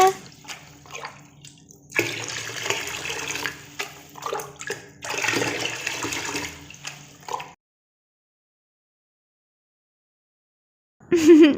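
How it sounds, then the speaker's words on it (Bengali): Water poured and splashed in bursts during a cold-water bath, several uneven sloshing pours close by, then a pause of silence before a short sung tune begins. "এবার ঠান্ডা ঠান্ডা জল দিয়ে স্নান করে নিই"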